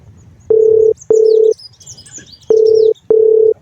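A phone ringback tone plays while a call is redialled: four steady buzzing beeps in two pairs, each beep about half a second long, loud and clear over faint room noise.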